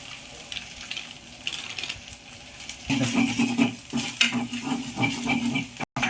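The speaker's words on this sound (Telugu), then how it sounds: "ఇప్పుడు మనం ఒక్క స్పూన్ ధనియాల పొడి వేసుకుందాం" Coriander powder stirred into ginger frying in a pan with no oil added: a soft sizzle turns louder and busier as stirring scrapes and rustles the spoon around the pan, with no talking.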